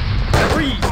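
Two quick shotgun blasts from the video game Postal, loud and close, each a harsh burst in under a second.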